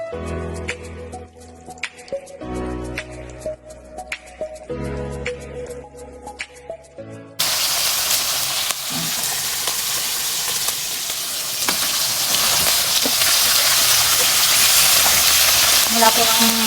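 Pork frying in a pan for sinigang, a loud close hissing sizzle that starts abruptly about halfway through and continues steadily after a short stretch of background music.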